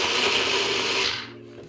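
A blender whirs loudly as it blends a frozen mango smoothie with water, then cuts off after about a second, leaving a faint low hum; the sound is close and no one speaks.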